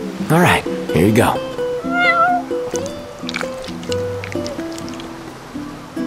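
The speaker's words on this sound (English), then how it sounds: "You're one spoiled cat." A cat in Final Fantasy XV meows twice, loud and rising, with a thinner mew after, while characters talk over soft game background music.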